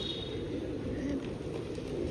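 Low murmuring coos of pigeons at the Laxminath temple in Bikaner blend into a dense, steady hum of outdoor crowd noise, with no clear individual calls standing out.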